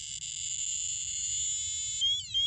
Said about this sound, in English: Attention, dose rate alarm 2,